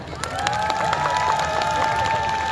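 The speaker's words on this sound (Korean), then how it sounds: "한 분 한 분 소개할 때마다 큰 박수 부탁드립니다." An outdoor crowd at the 2018 Pyeongtaek Rock Festival claps and cheers as a band member is introduced before the set. Steady applause carries high shouts and whistling cries, loud and continuous across the whole stretch.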